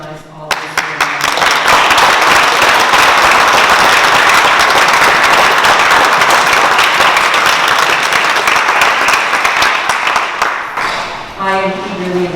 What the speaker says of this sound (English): could I ask for a round of applause to recognize all of you?